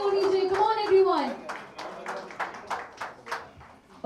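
An audience at a song launch event claps in a loose, scattered patter that thins out toward the end, while a host speaks over the start.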